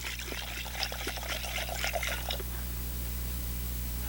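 Liquid poured from a container into another vessel while making a DIY tent: a steady close trickling stream runs for about two seconds, then stops, leaving a low constant hum.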